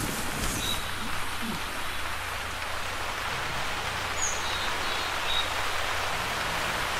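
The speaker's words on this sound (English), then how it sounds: "Oh, rain could be helpful." Rain falls in the hunting video game theHunter, a steady soft hiss that fills the scene with a few faint bird chirps over it and a voice briefly at the start.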